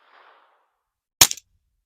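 One sharp shot from a suppressed Ruger Mark IV pistol firing Mini Mag ammunition cracks out on its own, close and fairly loud, with a short trailing echo after a near-silent pause.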